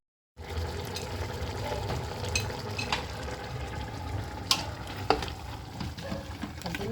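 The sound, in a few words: beef and vegetables sautéing in a pot for vaca atolada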